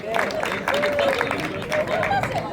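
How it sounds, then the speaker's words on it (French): An audience applauds and cheers for dance contest participants at the Madina Marmara in Marrakech. The clapping and crowd noise are loud and dense, with a voice heard over them. "Est-ce qu'on peut les applaudir encore une fois?"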